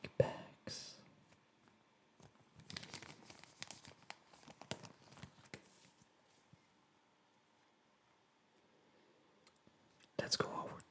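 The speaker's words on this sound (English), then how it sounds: "It is two small plastic bags." Two small plastic bags handled close up in a quiet room, with soft crinkling bursts that come and go between near silence and an occasional whisper.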